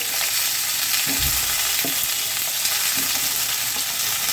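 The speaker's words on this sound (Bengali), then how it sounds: "আলু ফুলকপিটাকে আমি একটু হালকা করে ভেজে নিচ্ছি" Potato and cauliflower pieces frying lightly in a pan, a continuous close sizzle broken by a few soft thumps of stirring.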